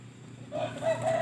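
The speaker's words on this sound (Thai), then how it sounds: "มีไก่แล้วก็ถ่ายไก่ให้ดูนะครับ" Backyard chickens clucking and a rooster starting to crow, three short rising calls at moderate distance over a steady low background hum, with no speech.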